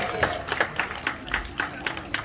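A crowd at a safari park show applauds, with rhythmic group clapping and scattered cheers that rise and fall in regular bursts, moderately loud and nearby.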